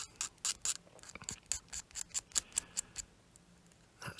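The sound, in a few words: OLFA hobby knife trimming plastic model nubs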